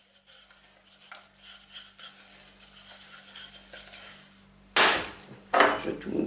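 Homemade play dough mixture of flour, oil and hot water being stirred, soft scraping swirls followed by two louder, closer bursts of mixing.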